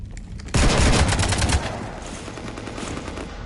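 Burst of automatic gunfire in Mass Effect 3 as a ship is shot up, a loud dense volley of rapid shots lasting about a second before fading into lingering rumble, no talking.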